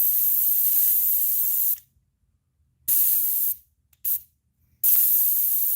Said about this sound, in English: this stuff just does not want to spray